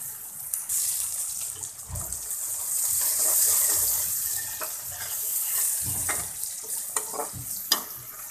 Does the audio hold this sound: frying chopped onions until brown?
yes